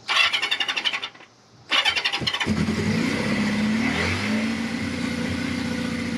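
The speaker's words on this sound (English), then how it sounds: "This bike hasn't started in like a month. Fired right up." A Kawasaki KZ650 SR motorcycle engine cranks with a rapid chugging rhythm, pauses briefly, cranks again, then catches and settles into a steady, loud idle that runs to the end.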